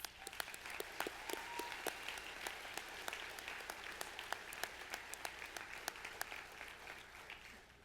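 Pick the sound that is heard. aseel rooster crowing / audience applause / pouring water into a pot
audience applause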